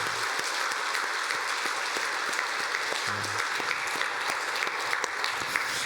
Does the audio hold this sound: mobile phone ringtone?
no